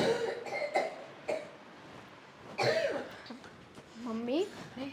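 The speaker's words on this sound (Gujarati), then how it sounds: "મમ્મી આટલી બધી ઉધરસ આવે, તમે દવા લીધી કે?" A woman coughs in short repeated bursts, close and fairly loud, with quieter pauses between them and a brief throat sound near the end, indoors.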